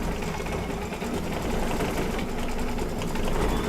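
An embroidery machine stitches a tree design on a quilt block, a fast, steady mechanical rattle and hum running continuously up close with no talking.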